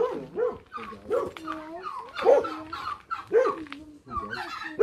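A dog barks several times in short bursts, mixed with high whiny yips, while people talk nearby, outdoors near geese and turkeys in Albania.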